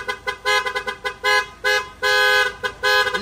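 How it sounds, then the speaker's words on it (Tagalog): A Ford Ranger fitted with a 12-channel horn module honks in rhythmic patterns, loud and close, with short staccato bursts that give way to longer sustained blasts in a repeating programmed sequence. "Ayan yung horn module natin na 12 channel mga kabisyo."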